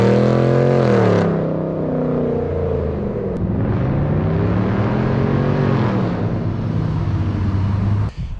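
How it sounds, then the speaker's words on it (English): Exhaust of a 2019 Chevy Silverado pickup truck in manual mode, a loud, steady engine roar with rising pitch as it accelerates, sustained close by for several seconds with no talking. "hitting that button again for the manual mode and hearing that kind of Mopar exhaust sound"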